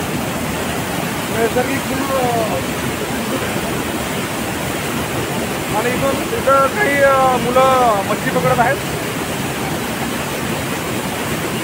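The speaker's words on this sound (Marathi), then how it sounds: "आणि खूप सुंदर असे धबधबे" Nalkund waterfall near Buldhana roars as a steady, loud wash of falling water, while someone talks over it and bursts of children's voices rise in the middle.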